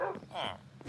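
A pet dog in Minecraft barks once or twice, a short, slightly muffled game sound heard through a player's ongoing chatter.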